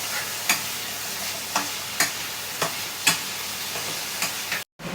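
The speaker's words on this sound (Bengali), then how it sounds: "ইন্ডাকশানে অনেক সময় লাগছিল বলে আমি আলুগুলোকে গ্যাসে ভেজে নিচ্ছি" Potatoes frying in a pan on a gas stove: a steady broadband sizzle runs throughout, broken by several sharp scrapes or stirs at irregular intervals, with a brief cutout near the end.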